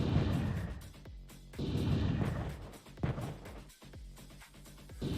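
Bursts of weapon fire aimed at asteroids in a Rust-built platform video game, coming in loud repeated booming volleys with brief gaps between them, no talking over the top.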